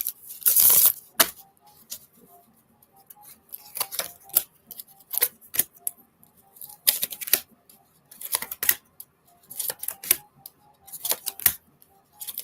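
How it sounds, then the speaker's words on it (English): A deck of tarot cards being shuffled at close range, with sharp papery riffles and slaps arriving in irregular bursts separated by short quiet pauses. "One more shuffle."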